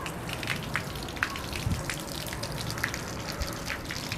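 Water running from household taps through newly laid-out home piping, a steady splashing flow with scattered drips, fairly quiet and without speech.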